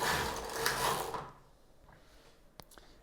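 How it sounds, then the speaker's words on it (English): A Knittax knitting machine carriage slides across the needles with a loud, close mechanical whirring swish for about a second, then falls quiet except for a couple of small clicks. "Lay the yarn in the needle hooks and take the carriage across."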